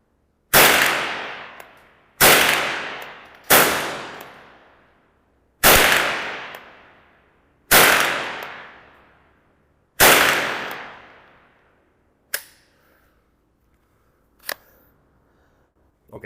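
Remington Nylon 66 polymer-stock rifle fired outdoors at 50 metres: six loud, sharp cracks at irregular intervals, each with a fading echo tail, followed by two fainter clicks.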